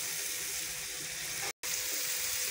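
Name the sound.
frying in oil for chicken handi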